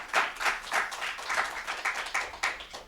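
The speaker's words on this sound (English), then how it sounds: "So if we could all give D'Angelo a round of applause" A small audience claps for a presenter at a symposium, a modest, uneven round of applause in a room, moderately loud and without speech.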